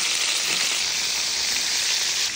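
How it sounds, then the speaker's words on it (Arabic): Meat searing in a hot pot for mixed vegetables with meat, a steady close sizzle and spatter filling the clip without pause, no voices. "وهنشوح اللحمه بقى"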